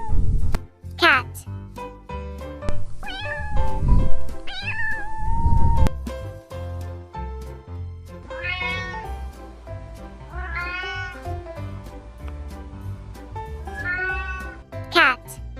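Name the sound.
cat meowing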